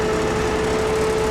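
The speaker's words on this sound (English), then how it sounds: "that side has the exhaust on it and it's a little bit loud" Steady loud exhaust drone from a crane's engine, with a constant hum and tone, running without pause and with no talking.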